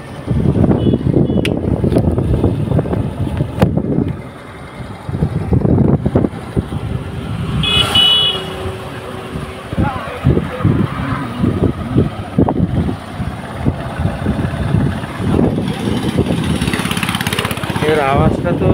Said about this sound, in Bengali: এখন আমি আপনাদেরকে একটু গাড়িটা চালিয়ে দেখি,